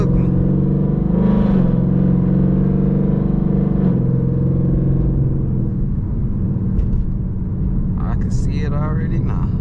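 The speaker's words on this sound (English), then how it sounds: "Oh, that's a Camaro" A Chevrolet Camaro engine rumbles loudly and steadily close by, a deep sustained drone that eases slightly toward the end, with people talking over it.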